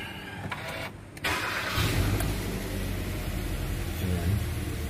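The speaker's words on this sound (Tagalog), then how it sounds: "Start muna natin yung makina." A Hyundai Elantra 1.6 engine with a misfire is push-button started and settles into a loud, continuous idle with a low rumble; a brief whir and clunk come before it catches.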